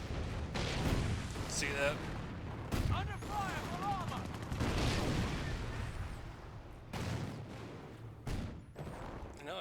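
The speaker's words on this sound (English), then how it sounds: "it'll drop airburst artillery on it" Airburst artillery strikes in the Company of Heroes strategy game, a run of sharp booming blasts and crackling gunfire over a rumbling battle bed, with someone briefly talking over it.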